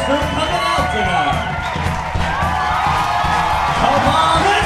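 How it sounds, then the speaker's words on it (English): A comedy club crowd at Governor's Comedy at the Brokerage applauds and cheers in a dense, loud roar of clapping and raised voices, with a voice talking over the noise. "Give yourselves a round of applause for coming out tonight."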